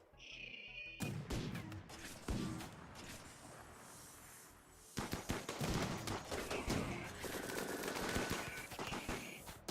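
Long-range guns firing in the colony-building game RimWorld, a clatter of sharp shots in scattered volleys with a quieter gap midway, then a steady barrage of overlapping bursts, moderately loud.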